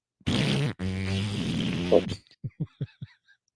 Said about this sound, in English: 5-minute fart